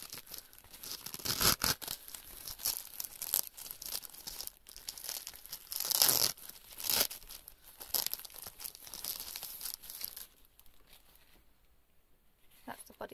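Crinkly plastic sanitary pad wrappers tear and rustle in repeated bursts, close and fairly loud, with a quieter stretch near the end.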